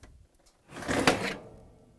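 A GE oven door is lifted off its hinges, giving a single scraping, rattling metal clatter of about half a second that swells and fades, set against a quiet room.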